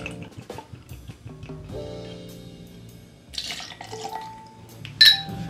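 Homemade liquor is poured into a cocktail glass, a soft trickling stream of liquid lasting a couple of seconds, followed by a light clink of glassware, all fairly close with no talking.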